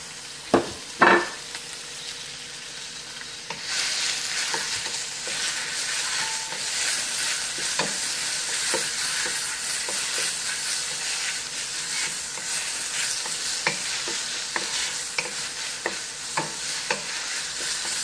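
Steak seasoned with salt and pepper hits hot oil in a pan for beef fried rice, breaking into a loud, continuous close-up sizzle with scattered spatters and crackles after a couple of initial clunks.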